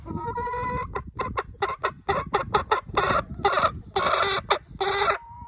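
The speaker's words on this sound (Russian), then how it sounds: "Вот, эта курочка несется." A hen laying an egg clucks close up in a rapid, insistent series of loud cackles, each burst sharp and repeated with brief pauses between calls.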